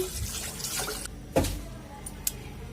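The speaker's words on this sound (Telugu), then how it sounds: "ఒక లోటా నీళ్ళు పోస్తున్నాను" Water splashes briefly into a metal pressure cooker, followed by a couple of small clanks and drips.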